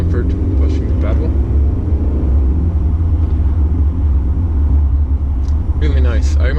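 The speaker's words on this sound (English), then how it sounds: "I don't hear too much wind noise, or I do hear the tire noise." Steady low road rumble and tire roar fill the cabin of a 2019 Mercedes C-Class 220d diesel on Croatian roads, constant and close, with someone talking over it.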